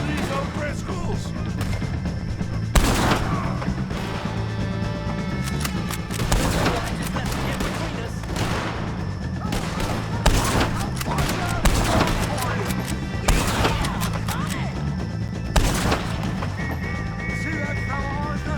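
Dense gunfire in a Red Dead Redemption 2 shootout against O'Driscolls, with rapid shots cracking over one another alongside shouting voices and a background musical score.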